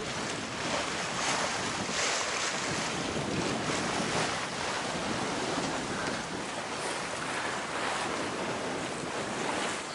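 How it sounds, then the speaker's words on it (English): Steady ocean swell and gusting wind wash around a sailboat on a solo passage inside the reef off Belize, a continuous broadband roar with buffeting wind noise on the microphone and no voices. "This is the ocean, but you're inside the reef."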